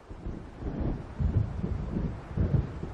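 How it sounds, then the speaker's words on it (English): Low, rumbling thunder from an approaching storm in the video game Alan Wake rolls in faint waves beneath windy, gusting noise, with no talking. "It seems there's a storm coming."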